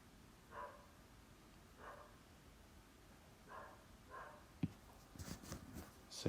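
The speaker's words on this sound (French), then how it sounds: "Désolé si vous entendez le chien qui aboie à minuit passé." A dog barks after midnight: four or five faint, distant barks spaced a second or two apart, followed by some closer rustling and clatter.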